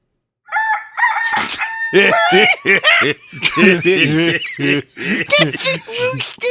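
A loud rooster crows several times in quick succession, shrill and close, with voices chattering and laughing over the calls.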